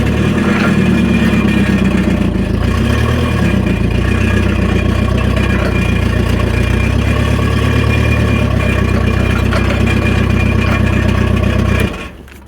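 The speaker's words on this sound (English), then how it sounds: "Let me move this forklift for just a second." A forklift engine runs steadily and loudly at close range while the machine is moved, a rough mid-pitched drone that cuts off abruptly at the end.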